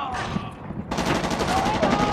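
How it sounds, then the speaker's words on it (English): Enemy gunfire in the video game Shellshock 2: Blood Trails: a quiet stretch breaks into a loud, rapid burst of automatic shots that keeps rattling to the end, with a voice speaking partly under it. "That guy was firing his gun as he was climbing the wall."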